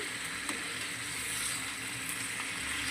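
Tomatoes frying in a pan for tomato chutney, a steady close hiss and sizzle of hot oil running throughout, with a few soft clicks and no talking.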